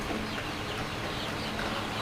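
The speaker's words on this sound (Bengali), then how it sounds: "এটা হলো কক মুরগি দর্শক" A dense wash of clucking from a flock of young cock chickens in a small poultry farm beside a house, continuous and fairly loud with no single bird standing out.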